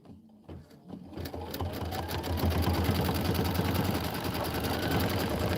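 A Brother Aveneer Lumina sewing machine runs steadily while stitching quilt sashing, starting after a brief quiet moment and settling into a loud, continuous motor hum with rapid needle chatter.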